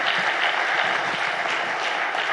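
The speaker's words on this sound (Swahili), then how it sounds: "Makofi mengi sana." Steady, dense applause from a large audience fills a ceremony at the State House as a women judges' book is launched, loud and continuous without voices.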